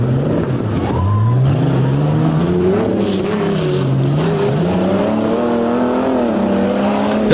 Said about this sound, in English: Look at Pilichowski digging up the soil as he lays into the throttle of the Little Red Ranger.